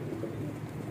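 Pigeons held by a rooftop keeper coo in a low, throaty murmur, close and continuous across the short moment, with no talking.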